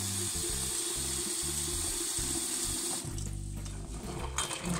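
Chestnuts are stirred in a basin of water, giving a steady sloshing, rushing sound up close with uneven churning underneath throughout.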